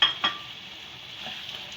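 Spices frying in cooked dal, a quiet soft sizzle opening with two quick utensil clinks, then a low steady hiss.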